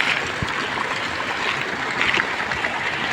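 A stream swollen with floodwater in Kondotty rushes past, a continuous close churning and splashing flow at a steady level, with no voices.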